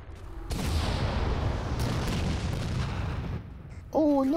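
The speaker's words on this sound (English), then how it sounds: "Explosions." Explosions rumble in a Halo 4 Spartan Ops video game battle, a loud, sustained roar of blasts and debris lasting several seconds, ending with a sharp burst and a high whine.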